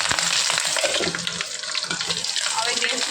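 Chilies drop into hot oil with sesame seeds and burst into a loud, close, dense sizzle and spatter that crackles steadily for a few seconds, with a voice speaking briefly beneath it.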